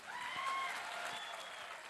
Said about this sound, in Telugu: పెద్ద ఎత్తున చప్పట్లు కొడదాం